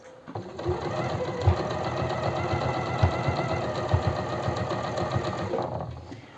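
A sewing machine stitches a seam on a blouse made of eyelet fabric, a rapid continuous mechanical whirr with small rhythmic knocks, close and loud, starting and stopping cleanly over a few seconds.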